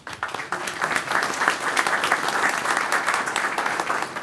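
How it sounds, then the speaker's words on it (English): A round of applause at a village board meeting, with a small room of people clapping in a brisk, uneven patter of distinct hand claps that rises quickly and continues steadily throughout. "Really, round of applause for you guys."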